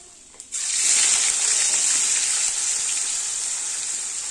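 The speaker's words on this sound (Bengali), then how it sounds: "দিয়ে পেঁয়াজটাকে একটু ভাজা ভাজা করবো।" Sliced onions dropped into hot oil tempered with cumin and a torn dried chilli, bursting into a loud, steady sizzle after a brief quiet moment, then hissing on evenly.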